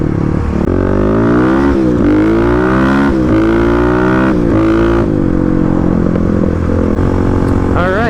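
Stage 3 Kawasaki KLX351 dirt bike ridden on a beach, its engine loud and close throughout, revving up and down in repeated surges as gears change, with wind buffeting the microphone.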